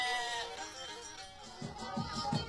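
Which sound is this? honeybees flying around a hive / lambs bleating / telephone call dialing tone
lambs bleating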